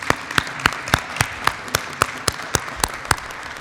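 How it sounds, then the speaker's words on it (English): An audience at a 2016 local candidate forum gives a round of applause for all the candidates, a steady stream of claps with sharp individual hand claps standing out roughly every third of a second, fairly close and continuous. "Would you please join me in giving a round of applause for all of the candidates this evening?"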